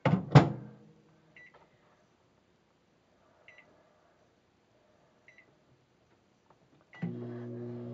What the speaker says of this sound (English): while we have our milk in the microwave